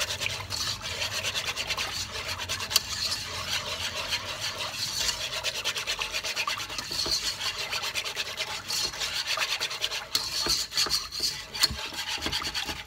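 A whisk scraping and stirring steadily as milk is worked into butter and flour for a béchamel sauce in a pan, a continuous close rasping rub for the whole stretch with no talking.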